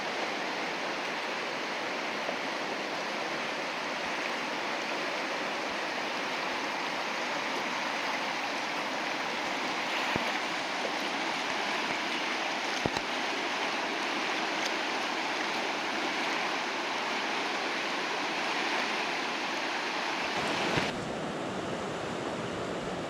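Whitewater river current rushes steadily and loudly past a kayak, a continuous broad roar of churning water with no pauses.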